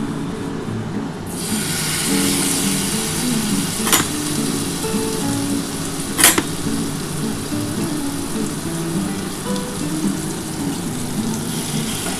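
Marinated chicken tikka pieces go into a hot pan one at a time, raising a steady, dense sizzle with a couple of sharp crackles over it, continuous and close with no talking.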